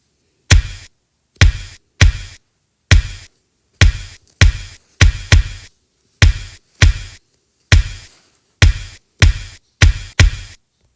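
Ordinary, a Sprunki video game character, makes a loud, percussive knock-like beat: sharp, evenly spaced hits in a steady rhythm, heard alone with no voices.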